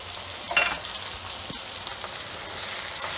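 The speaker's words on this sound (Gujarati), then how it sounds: "હવે આપણે આ લસણ ને આદુ મરચાની પેસ્ટ ક્રશ કરેલા એ નાખી દઈશું" Crushed garlic, ginger and chili paste frying in a pan for a ridge gourd and colocasia leaf curry, a soft steady sizzle with a few scraping stirs, close and fairly quiet, no voices.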